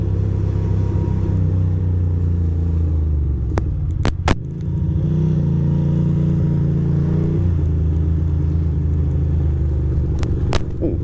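A motorcycle with a newly replaced crank position sensor rumbles through New York City morning traffic, its steady low engine drone shifting with throttle changes, joined by a few sharp clicks.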